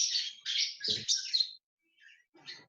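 Pastel and split-pastel lovebirds in a breeding aviary give a quick run of loud, shrill chirps up close, then a short pause and a couple of fainter calls.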